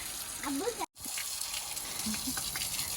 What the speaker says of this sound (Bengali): ভালোই তো পানি দিতে পারো আব্বু তুমি